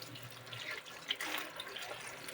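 Tap water running steadily into a sink while vegetables are rinsed to remove worms, a continuous splashing hiss with small clatters, close and moderate, with no talk.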